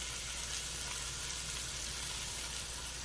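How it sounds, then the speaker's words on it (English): Half a diced onion sizzling in a tablespoon each of olive oil and butter in a pan, a soft steady crackling hiss throughout, close and fairly quiet, with no other sounds. "I have a tablespoon of olive oil and a tablespoon of butter. Let's let it melt. Now I'm going to add my onion."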